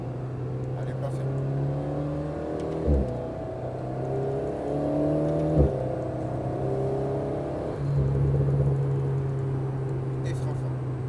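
Alpine A110S engine accelerating hard on the Maison Blanche circuit at Le Mans, a steady droning tone climbing through gears with two quick shift breaks, under an instructor's talk.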